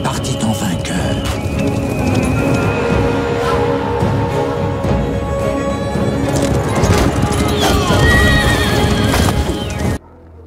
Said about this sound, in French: Et un cheval blanc parut.